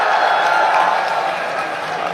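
A rally crowd applauds in a steady, dense wash of clapping and cheering that holds without a break, loud and close, with voices mixed into the noise.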